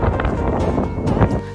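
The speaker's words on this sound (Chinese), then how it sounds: "下午这呼呼大风又来了" Strong wind blusters at the seashore during low-tide sea cucumber gathering, a loud, continuous rough rumble of gusts buffeting the microphone, with surging bursts throughout and no speech.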